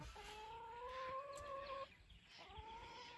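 A chicken gives two drawn-out, tonal calls separated by a brief pause, fairly faint against a steady outdoor background hiss.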